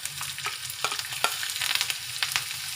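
Asafoetida and green chillies dropped into hot oil for a tempering, with cumin already in the pan, crackling and sizzling close up in quick irregular pops.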